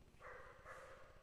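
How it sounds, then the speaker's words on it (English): A dog barks a couple of times at a distance, faint and muffled, with two short bursts of barking. "there is a dog that is barking."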